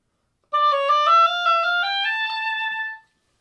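A wind instrument plays a quick scale-like passage with every note slurred, a smooth, clean run of connected tones lasting about two and a half seconds, alone in silence.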